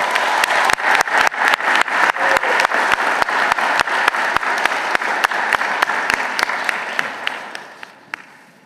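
Steady, loud applause from a graduation crowd in a high school ceremony, rapid dense clapping holding evenly for several seconds before thinning and fading out at the end.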